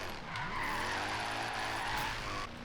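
Mercedes drifting in Forza Horizon 3, with a steady engine roar and continuous tire squeal sweeping in pitch as the car slides, loud and close throughout.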